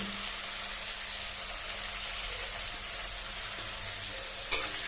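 Long-cut bitter gourd seasoned with salt and turmeric deep-frying in oil, a soft steady sizzle throughout, closing with a single sharp clink of a utensil.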